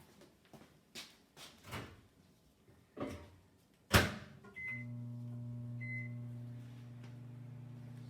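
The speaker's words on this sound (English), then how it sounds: "I'm going to give it a quick little blast in the microwave" A kitchen microwave oven heats mozzarella cheese: a few knocks and a sharp door thud, a couple of faint beeps, then a steady, close electric hum that runs to the end.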